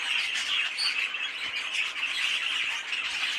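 Pet birds kept in a garden shed with breeding cages squawk and chatter in a steady, busy stream, close and fairly loud with no talking.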